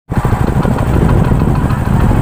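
A motorcycle engine running close by cuts in abruptly and holds a loud, steady, throbbing drone throughout, with no talk over it.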